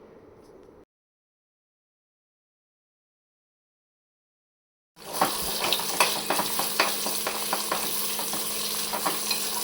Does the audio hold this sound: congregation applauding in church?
no